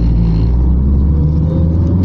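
A modified Toyota MR2 Turbo, a rear-drive drag car with an upgraded engine, launches at a drag strip with a loud, close, continuous rumbling engine roar that stays heavy and steady throughout.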